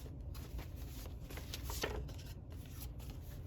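Tarot cards shuffled by hand, a close, soft, continuous riffling and sliding with brief crisp flicks.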